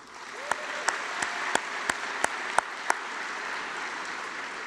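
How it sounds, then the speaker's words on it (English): At a medical school white coat ceremony, a crowd keeps up a soft bed of applause while a few sharp, evenly spaced claps ring out near the microphone. "give yourselves a round of applause"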